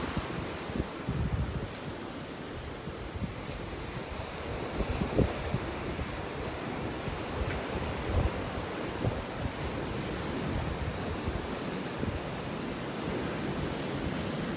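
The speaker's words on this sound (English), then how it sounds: "The tide is really coming up now." Waves from the incoming tide washing onto the beach at Naples Pier on a morning walk, a continuous broad rush of surf mixed with wind buffeting the microphone.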